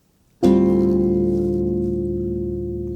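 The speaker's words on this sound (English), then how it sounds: "And when we strike this chord on the piano, it sounds like this." A single dense quartal chord struck once on piano, ringing out and fading slowly over a few seconds.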